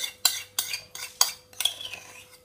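Utensils stirring vinaigrette through warm potatoes in a bowl for a potato salad, a series of close scraping clinks in uneven strokes, about five distinct knocks with no talk.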